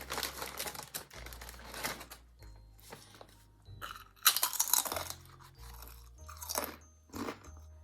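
Morrisons The Best Brie and Truffle crisps crunched up close, sharp crackling bites and chewing in uneven bursts with quiet pauses between, no talking.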